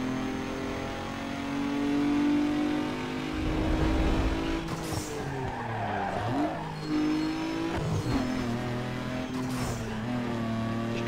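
A car accelerating hard in a drag race in the video game Need for Speed Underground 2: a loud, steady engine roar climbs through the gears, with rising pitch sweeps and brief drops at each shift, heard close and alone.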